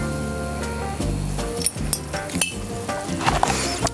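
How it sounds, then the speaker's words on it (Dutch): Cod fillet hitting hot olive oil in a pan, a soft sizzle that jumps up partway through, with sharp clinks and scrapes of a spatila against the pan over a low background hum. "De kabeljauw gaat in de pan, in de hete olie."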